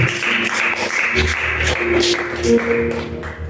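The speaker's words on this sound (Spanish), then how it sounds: "Den un fuerte aplauso al Rey de Reyes." Church congregation clapping loudly for the King of Kings during a Spanish-language service, a steady wash of applause lasting several seconds with a sustained musical tone underneath.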